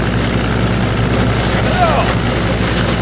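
Tractor pulling a Ford 917 flail chopper grinding stalks on a county tractor club field, a steady loud droning rumble with continuous churning and wind buffeting throughout.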